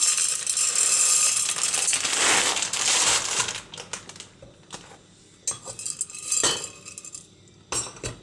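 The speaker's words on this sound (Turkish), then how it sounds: "Mısırımızı döküyoruz." Hard dry popcorn kernels pour and rattle into a metal pot of heated oil in a rushing cascade, followed by scattered clinks and light scraping.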